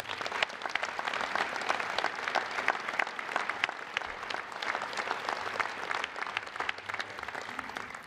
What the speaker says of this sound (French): je vous remercie, mesdames et messieurs, de bien vouloir l'applaudir une nouvelle fois